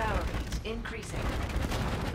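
Missile launch in Call of Duty: Infinite Warfare, a booming whoosh of firing amid ongoing battle noise, with a radio voice speaking over it.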